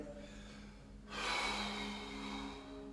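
A single big exhaled breath during a flexibility exercise class, rushing out close to the microphone after a quiet moment and fading slowly with a faint hum underneath.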